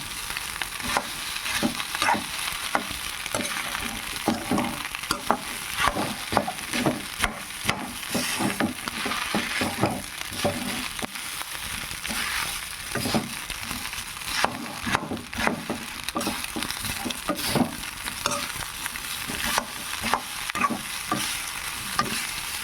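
Food stirred in a pan, a continuous sizzle with dense, rapid scraping and knocking strokes of a utensil, close and fairly loud, no one talking.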